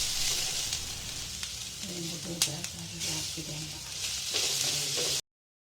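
A ground paste of coconut, cumin and garlic sautés in a pan for vegetable pulao. It gives a steady, close sizzle with occasional stirring scrapes and light taps throughout.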